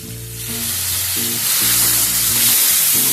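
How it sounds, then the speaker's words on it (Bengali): Small chopped tomato pieces with a pinch of salt sizzle loudly and steadily in hot oil, a dense close frying hiss that keeps building. A low hum runs beneath it, and no one talks. "এবার একটা ছোট সাইজের টমেটোকে ছোট ছোট টুকরো করে কেটে নিয়েছি, এটাকে ওই তেলের মধ্যে দিয়ে দিলাম।"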